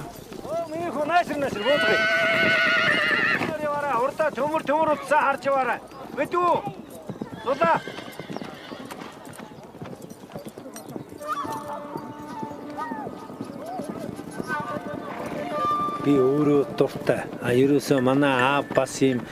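Horses whinny and neigh repeatedly over steady hoof clip-clop, with a voice talking through much of it and music-like tones in the background.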